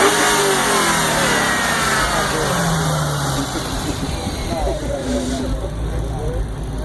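Supercharged 2015 Dodge Hellcat Challenger engine revving loudly, pitch sweeping up and down through repeated throttle blips, up close and continuous with a voice talking over it.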